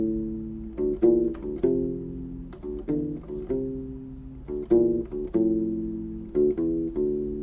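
A U-Bass plays a jazz walking line, a steady series of plucked, rounded low notes with light finger attacks, heard alone and up close.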